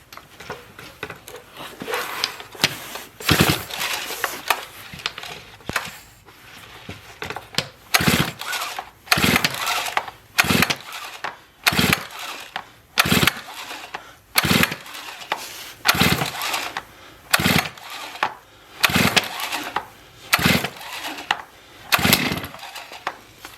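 Repeated pull-starts on a Stihl MS 391 chainsaw with a 25-inch bar, choke engaged: a string of loud, close, sharp bursts every second or so that never catch into a steady running engine.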